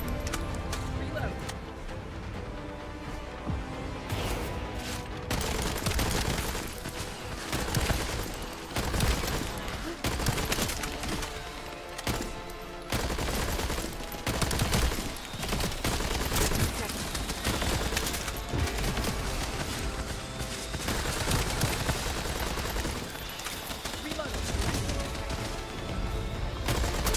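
Sustained video game gunfire, dense repeated shots and bursts running throughout at steady loudness with game clutter and occasional voice mixed underneath.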